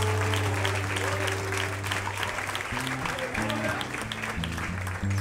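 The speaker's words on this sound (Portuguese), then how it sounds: "Você que crê, aplauda ele em nome de Jesus." Church congregation applauding during a Portuguese-language evening blessing service, steady dense clapping throughout while sustained music or organ tones continue beneath.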